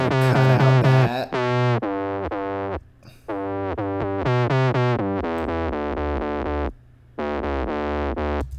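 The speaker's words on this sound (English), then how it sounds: "we're gonna get really nice, new crunchy distorted version of that sine wave." A sine-wave bass synth with gritty, crunchy distortion plays a run of sustained notes in a steady rhythm, loud and up front, with brief gaps between phrases.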